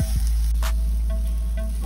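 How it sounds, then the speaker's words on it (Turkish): Onions sizzle steadily in hot oil in a pan, a close, continuous frying hiss with a couple of faint clinks, no talking. "Soğanları kızartıyoruz yağda birazcık."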